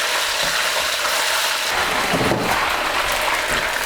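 Beef hisses and crackles in a deep pool of hot oil in a wok, a loud, dense, continuous sizzle with spitting pops that swells about halfway through.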